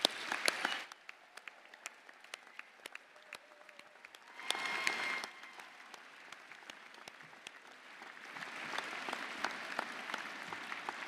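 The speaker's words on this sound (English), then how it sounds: "A quick round of applause." A crowd at a university graduation ceremony applauds steadily for several seconds, the clapping swelling briefly near the start and again toward the end.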